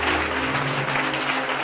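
A congregation claps together at a lively church service, a loud, continuous wash of hands beating steadily throughout.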